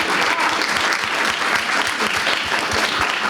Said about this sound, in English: So let's give him an applause here.